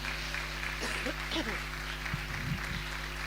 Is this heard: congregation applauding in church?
yes